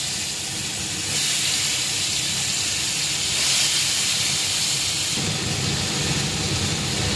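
Raw banana mixed with cumin powder, coriander, turmeric and salt hissing in hot oil with cumin seeds, a steady broadband sizzle that swells as more goes into the pan, no voices.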